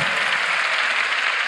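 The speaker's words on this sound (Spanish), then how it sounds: "Vamos a otorgarle otro cálido aplauso, por favor, para dar por concluida su participación en este VidaFest." Audience applause at the VidaFest Puebla 2019 event, a dense continuous wash of clapping from a crowd, steady and fairly loud for a short stretch with no voices over it.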